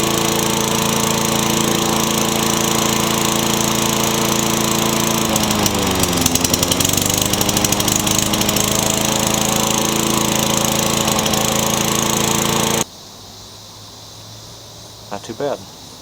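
Curbside Lawn-Boy lawn mower engine running steady and loud for about thirteen seconds before cutting out abruptly, leaving near-quiet with a couple of faint knocks.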